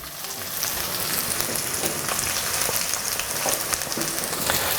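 Sun-dried tomato strips fry in a hot pan with a steady, dense sizzle, close and even throughout, with faint stirring ticks and no voices.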